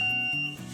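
A wet grinder gives a short electronic beep as it is switched off, a single thin tone over a fading motor hum, brief and fairly faint.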